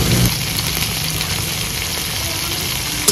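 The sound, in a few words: bitter gourd frying in a pan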